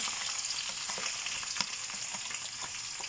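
Squid and garlic sizzle steadily in a hot pan, a dense crackling hiss with small pops and a brief stir scrape partway through, close and continuous with no talking.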